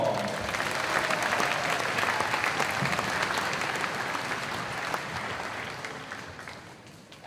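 Sustained applause from a school concert audience for the tuba section at an intermediate school spring band concert, a dense clapping roar that holds steady and then slowly fades near the end.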